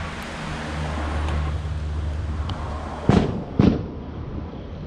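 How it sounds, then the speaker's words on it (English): School cannon fired in the distance near a creek, two sharp booms about half a second apart over steady outdoor background noise, with no talk. "This school's known to shoot off a cannon."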